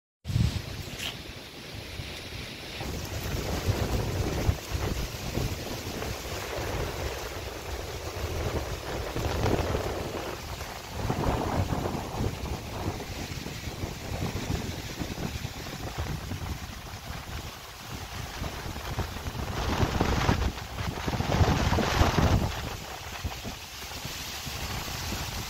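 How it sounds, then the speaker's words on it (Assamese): Strong wind gusts rush and buffet across an open area as rain approaches, rising and falling in loud surges and roaring against the microphone. "নেক্সট লেভেল বতাহ আহি আছে গাইছ পুৰা বতাহ মাৰি আছে গাইছ"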